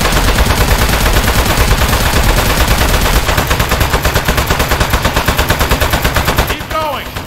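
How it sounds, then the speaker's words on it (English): Rapid gunfire in the video game Aperture Desk Job rattles in fast, continuous bursts, loud and near, tapering into separate shots before a voice speaks at the end. "Keep going. We're going, sir. Shooting him."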